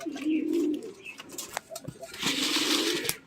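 Low, throaty pigeon cooing rolls out in two drawn-out phrases, close and fairly loud, with a few small clicks and rustles between them.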